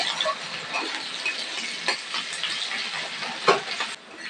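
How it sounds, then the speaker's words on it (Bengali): Sliced onions fry with panch phoron seeds in hot oil in a wok, giving a soft, crackling sizzle with the occasional scrape of a spatula stirring the pan, and no talking. "ভালো করে পেঁয়াজটাকে ভেজে নিতে হবে"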